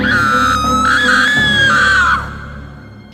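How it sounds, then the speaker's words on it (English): A woman screams uncontrollably in a horror story, a loud sustained shriek holding for about two seconds before trailing off into quieter background. "Slowly, she looked down herself and began to scream uncontrollably."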